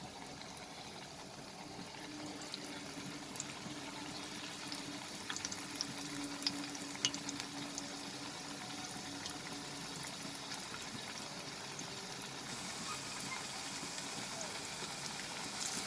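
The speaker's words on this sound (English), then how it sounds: "So I will fry all this remaining batter, fry it nicely." Coriander-leaf pakoras (dhaniya patta fritters) of batter deep frying in oil over a low flame, giving a steady, soft, continuous crackle and bubbling that stays quiet and even throughout.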